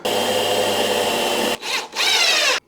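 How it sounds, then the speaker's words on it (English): A power drill bores into wood with a 1/2-inch Forstner bit for a whiskey bar build, a loud close grinding whir that stops briefly, revs back up, then cuts off abruptly. "But I'm going to use a Forstner bit. It's a 1/2-inch Forstner bit"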